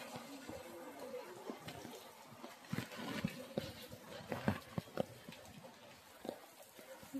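The Barak river running high after steady rain, a continuous rushing flow heard nearby with irregular splashes and gurgles rising and falling throughout, no speech over it.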